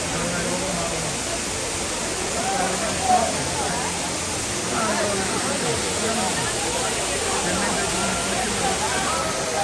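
Waterfall at Kuttalam, India, roaring as a steady, loud broadband wash of falling water that holds constant throughout, with faint crowd murmur mixed into the rush.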